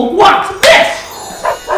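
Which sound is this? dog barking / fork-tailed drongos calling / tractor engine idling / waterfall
dog barking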